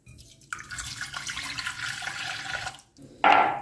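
Milk pours into a mug as coffee is being made, a steady splashing stream that stops briefly and then comes back in a louder, sharper burst.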